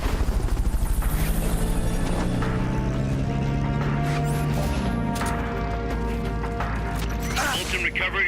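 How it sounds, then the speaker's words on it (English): A Fulton recovery helicopter in the video game Metal Gear Solid Peace Walker gives a steady, loud mechanical drone that runs throughout, layered with game music and a few thudding impacts. "Fulton recovery helicopter is complete"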